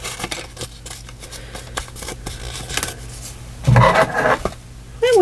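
Scissors snip through paper ephemera in a series of close, crisp clicks and cuts, with brief handling rustles and a louder scrape near the end.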